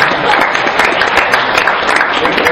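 A lively round of applause bursts from an audience in a lecture hall for one of its members, loud, close, dense clapping sustained throughout with some crowd noise mixed in.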